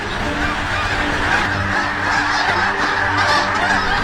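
A huge flock of geese lifts off together, driven up by hunting eagles. The honking is dense, loud and continuous, a close, overlapping chorus from start to finish.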